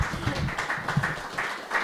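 A room full of listeners at a house concert gives a warm round of applause for folk performers, a dense continuous clatter of many hands, close and steady.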